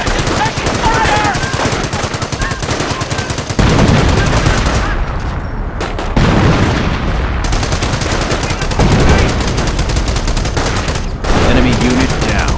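Dense machine-gun bursts and rifle fire from the World War II strategy game Company of Heroes, loud and nearly continuous, with brief pauses and game voices calling out under the shooting.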